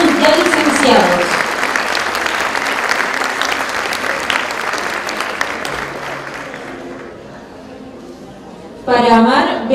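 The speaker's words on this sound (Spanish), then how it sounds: "Le brindamos nuevamente un aplauso al octavo año B y sus alumnos ya licenciados" Sustained loud applause from a crowd at an eighth-grade class B graduation ceremony at Escuela Enrique Zañartu Prieto, tapering off toward the end before a brief burst of voice or noise.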